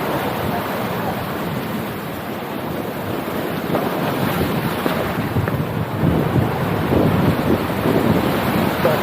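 Sea waves off Guernsey heard from a fishing boat, a continuous surging wash mixed with heavy wind buffeting, growing stronger in the last few seconds.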